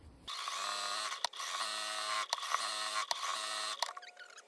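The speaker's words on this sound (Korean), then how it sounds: "이제 재봉 시작해 볼 거예요" A sewing machine stitches darts on blouse fabric in steady whirring runs, loud and close, broken by several brief pauses and ending in a softer rattle.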